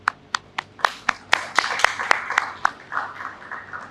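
Audience applause at a university convocation ceremony, starting as separate distinct claps that quickly thicken into a steady round of clapping, then trail off more softly toward the end.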